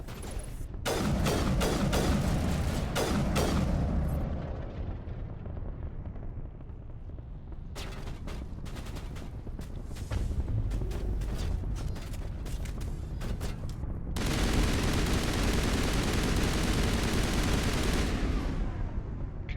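Sustained combat gunfire in the video game Mass Effect 1, dense loud bursts of rapid shots that pause briefly in the middle before resuming at full intensity, with booming low impacts throughout.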